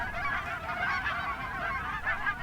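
Many geese honk together in a constant, overlapping clamor, a busy chorus of nasal calls at steady volume.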